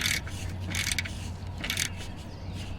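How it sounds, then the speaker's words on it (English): A 13mm ratchet tightening an oil drain bolt, with several bursts of quick clicking pawl strokes separated by short pauses. The clicks are close and fairly faint, over a low background hum. "And we'll grab our ratchet. 13mm. And we'll tighten that"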